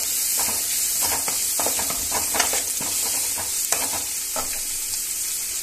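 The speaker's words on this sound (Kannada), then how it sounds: "ಹಾಗೆ ಕರಿಬೇವು ಮೂರನ್ನ ಹಾಕಿ ಚೆನ್ನಾಗಿ ಗೋಲ್ಡನ್ ಕಲರ್ ಬರೋವರೆಗೂ ಚೆನ್ನಾಗಿ ಫ್ರೈ ಮಾಡ್ಕೋಬೇಕು" Byadgi chillies and curry leaves fry in hot oil for a Kannada-style potato and pea gravy, a steady close sizzle broken by soft stirring scrapes, with no voices.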